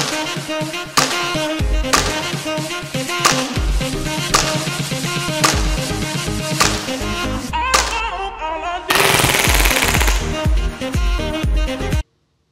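Action Army AAP01 airsoft pistol on green gas firing full auto, with rapid bursts of crisp, sharp snapping shots in several strings, loud and close, and a brief gassy hiss near the end.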